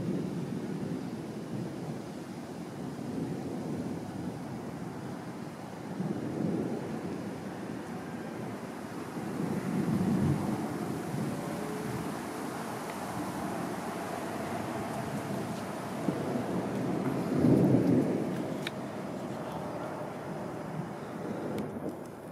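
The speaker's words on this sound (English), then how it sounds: "I don't know if you can hear the rumble, but it's just thunder." Thunder from a storm with tornadoes nearby rumbles faintly in the distance, with low rolling swells around the middle and again near the end over a dull background hum.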